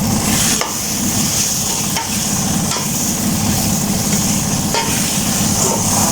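Masala with roasted pomegranate seeds (anardana) fries in a pan for dhaba-style karela piyaz, giving a loud, steady, unbroken sizzle that runs throughout with no talk.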